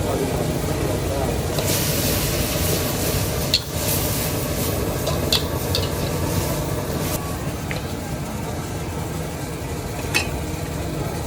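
Noodles frying with egg in a hot pan at a street food stall, a steady loud sizzle with stirring and scraping throughout, broken by occasional clinks, with people talking nearby.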